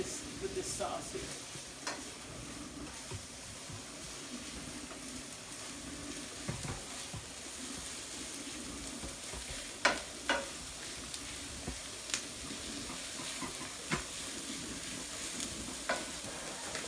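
Onions sizzle steadily in a pan while cooking down for spaghetti sauce, a soft continuous fry with occasional sharper clicks and scrapes of a utensil against the pan, no talking.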